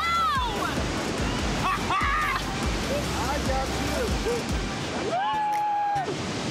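Victoria Falls roars up close as a dense, constant rush of falling water, with excited voices and exclamations over it.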